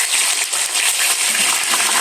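Fish sizzles loudly as it fries in a pan for a village fish curry, its water spattering in a dense, continuous crackle close by, with no talking.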